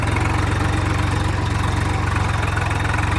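A Swaraj 744 XT tractor engine runs in a field with a steady, loud diesel throb, its rapid even pulsing and low rumble continuous throughout and close up.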